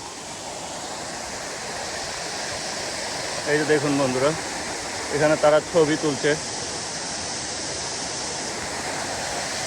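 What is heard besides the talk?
waterfall in Yangzhou city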